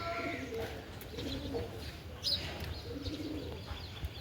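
Pigeons coo softly in low repeated calls amid outdoor background noise, with a person talking nearby.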